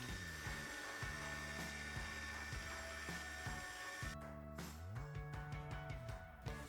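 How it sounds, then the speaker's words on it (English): Pasta dough for cannelloni is fed through a hand-cranked pasta machine, producing a steady, continuous mechanical whirring and rattling of rollers and gears that shifts in pitch partway through, with no talk. "roll the dough in the pasta machine, starting with the largest thickness and ending with the smallest"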